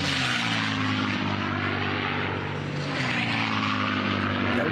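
Unlimited class racing aircraft at a heat race roar past close by, a loud propeller engine drone with rising and falling pitch as they approach and pass, with a commentator talking underneath.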